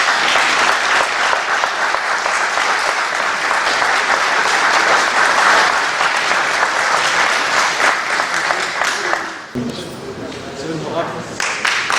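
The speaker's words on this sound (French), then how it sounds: "On applaudit très" Loud, sustained applause from an audience at a youth solar-installation training ceremony in Dolisie, dense clapping for about nine seconds before dropping off abruptly as a voice begins speaking.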